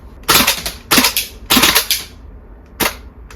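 A VFC gas blowback MP5 airsoft gun fires BBs in cold weather, with four sharp clusters of rapid double and triple shots, crisp and close, separated by short pauses.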